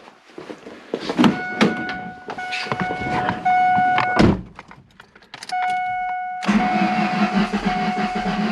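A 2000 Ford Focus engine with a replaced used cylinder head cranks repeatedly in several bursts, the starter whining with pauses between attempts, then catches and runs.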